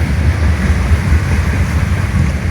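Waves lap steadily on the stony shore of Lake Baikal, with a continuous wash of surf and wind rumble close to the microphone and no talking.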